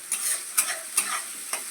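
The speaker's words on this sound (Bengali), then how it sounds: "এরপর দিব পেঁয়াজ। সুন্দর করে ভাজতে হবে।" Onions fry in a pan for aloo paratha, a soft steady sizzle broken by several scraping stirs at close range, with no voices.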